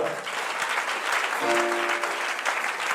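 A church congregation at a Sunday service breaks into loud, sustained clapping, with a few voices and a brief tone mixed in.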